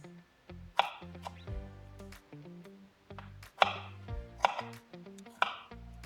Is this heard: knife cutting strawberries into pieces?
yes